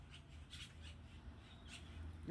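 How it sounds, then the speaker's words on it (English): Faint, scattered bird calls sound in short bursts over a low outdoor rumble, distant and intermittent. "hear them birds?"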